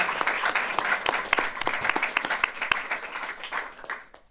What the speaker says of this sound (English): Would you join me in offering a round of applause to Marnie?